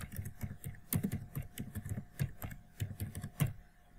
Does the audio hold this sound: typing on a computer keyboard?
yes